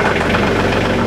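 Truck engine idling while hitched to a new trailer, a steady, loud, continuous rumble with even low throb and no voices.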